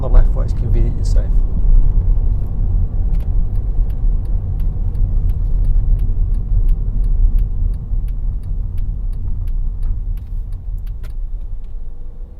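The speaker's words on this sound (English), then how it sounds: "Pull up on the left where it's convenient and safe." A car pulling over on a mock UK driving test, heard from inside as a steady low engine rumble with a faint, regular ticking over it that fades slightly toward the end.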